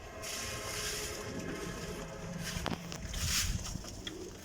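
Pigeons coo softly at a pigeon seller's place, low murmuring calls over a steady background hum, with a brief clatter partway through and a brighter burst of sound toward the end.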